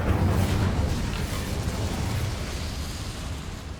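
An Incendio fire spell erupts in Hogwarts Legacy, a loud rumbling whoosh of flame that surges at the start and sustains as a dense roar, slowly easing off.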